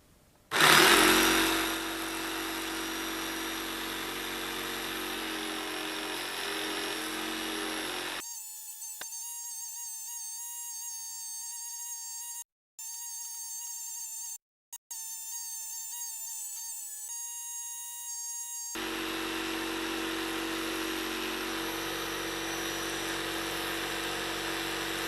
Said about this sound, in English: I cut off a piece from this small file and I mounted on it, and now this works as a filing machine